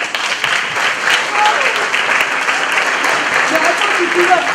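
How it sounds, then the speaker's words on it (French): An audience applauds at a French theatre play: dense, steady clapping that fills the whole stretch at close, loud level, with a few voices mixed in. "on l'applaudit"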